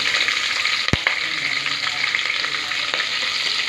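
Green chillies and onion fry in a pan for breakfast pasta, giving a loud, steady close-up sizzle with one sharp utensil clink early on.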